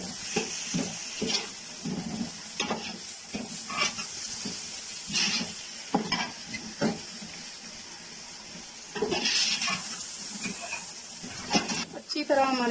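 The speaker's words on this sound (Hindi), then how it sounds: "अब यहाँ डालेंगे हरी मिर्चें और टमाटर।" Green chillies and tomatoes sizzle as they fry in a pan, with stirring and scraping strokes at an irregular pace and a steady bed of frying noise, loud and close throughout.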